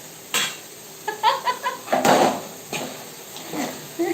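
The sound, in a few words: frying food in a pan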